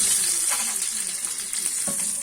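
Hawawshi bread loaf frying in a pan, a steady close sizzle with faint stirring scrapes and a soft knock near the end, no talking.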